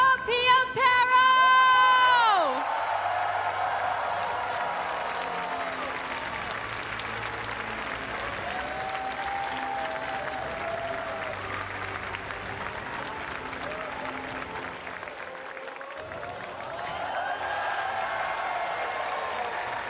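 A large crowd at a Pokémon video game championship applauds steadily with scattered cheers and whoops, preceded by a brief rising musical flourish at the start.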